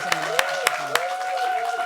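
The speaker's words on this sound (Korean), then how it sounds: "큰 박수 환영해 주세요" Applause from an audience on a Christian television broadcast welcoming a rapper, with a few sharp claps standing out, mixed with steady tones in the background.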